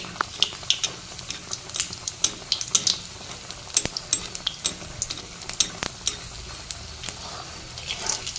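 Beguni, battered eggplant fritters, deep-frying in hot oil, with a steady crackling sizzle full of irregular sharp pops and spits heard up close and alone.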